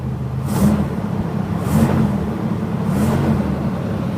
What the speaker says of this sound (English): Just hit the accelerator a little bit.